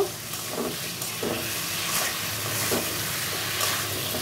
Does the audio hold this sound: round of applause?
no